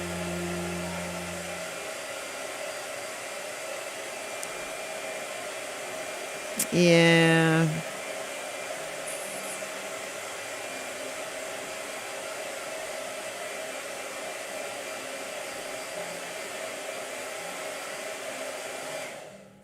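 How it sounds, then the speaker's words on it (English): A hair dryer blows in a short loud burst of steady whooshing airflow lasting about a second, rising over a continuous room hum; a single brief spoken word is heard. "Blow dryer."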